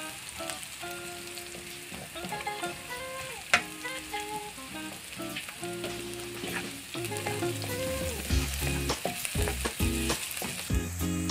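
Mushrooms sautéing in a pan for a mushroom Bicol Express, a steady close sizzle broken by scraping stirs and clinks of a utensil, growing denser toward the end with no one talking.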